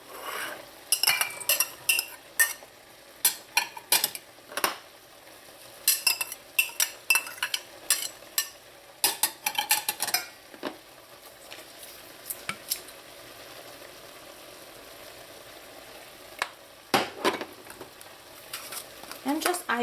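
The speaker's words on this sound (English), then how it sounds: "So just add all of your ingredients to your rice." Seasoning ingredients go into washed rice for Trinidad chicken pelau made with pink beans, giving close, scattered clinks and taps of a spoon against a bowl in irregular bursts, with quiet pauses between them.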